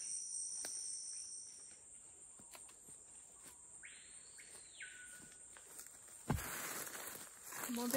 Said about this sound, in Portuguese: Cigarra.